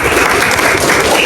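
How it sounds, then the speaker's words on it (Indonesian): Schoolchildren in a classroom clap rapidly and repeatedly together, a loud, close, dense rattle of many hands that runs on without pause. "sekarang tepuk 1 kali, tepuk 2 kali, tepuk 3 kali, tepuk berkali-kali."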